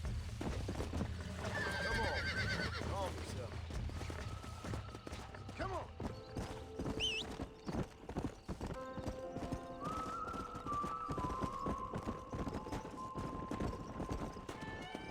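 Horse hooves clip-clop in a steady trot, broken by a neigh and several whinnies, in the Red Dead Redemption video game on Nintendo Switch, with faint game music and effects underneath.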